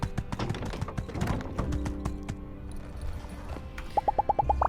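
Horse hooves clip-clop in the video game My Time At Sandrock, a busy run of steady footfalls amid game ambience, followed near the end by a quick row of sharp, evenly spaced clicks.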